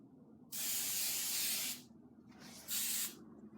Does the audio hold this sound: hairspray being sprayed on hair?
yes